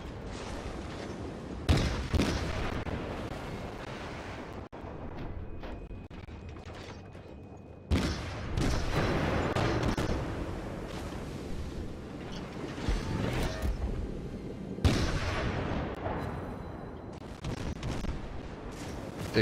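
Repeated heavy booms of naval cannon fire in World of Warships, a few seconds apart, over a continuous mechanical rumble and sea-like wash, loud and close.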